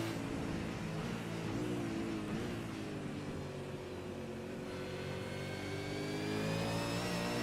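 A race car engine revs and accelerates in a sim racing game at Watkins Glen, its whining pitch climbing steadily through the gears, continuous and moderately loud with no talk.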